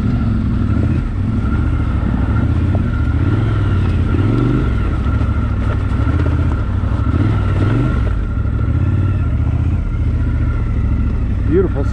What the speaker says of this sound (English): This motor again on this Triumph is fantastic